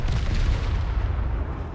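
The naval guns of the warship HMS Tiger fire in War Thunder Mobile, producing a deep, bassy rumbling boom that rolls on continuously, loud and heavy throughout.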